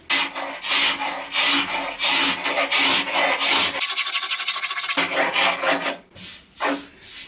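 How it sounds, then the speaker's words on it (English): A metal scraper is dragged repeatedly across Ercol wooden furniture to strip its factory finish, giving close, rhythmic rasping strokes with a short burst of harsher scraping partway through. "I'm going to try with a scraper"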